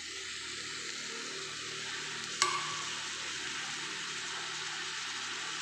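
Onion frying in oil for an egg palya, with tomato going into the pan: a steady, even sizzle throughout, broken midway by one sharp clack and a brief surge as something drops in.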